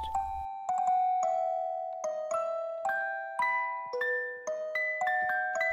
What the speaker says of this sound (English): we are met with a sad set of chiming musical tunes